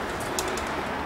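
Soft cooing of racing pigeons at a loft over a steady background hum, a low murmuring call repeating faintly through the short moment.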